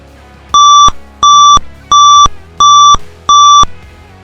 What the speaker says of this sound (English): you can use the beep tone to signal specific processes or specific situations